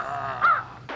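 A crow caws in a children's toy play scene, a single loud harsh call heard close and alone, with a brief sound following at the end.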